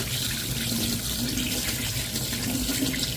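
Eggs are rinsed under a running kitchen tap, a steady rushing stream of water splashing into the sink without a break, loud and close.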